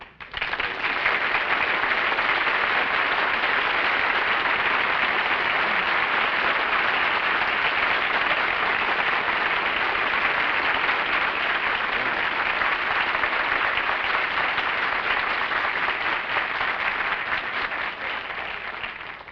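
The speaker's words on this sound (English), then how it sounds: "You already got more applause than I did" A large studio audience breaks into loud, sustained applause that holds steady for long seconds before starting to taper off.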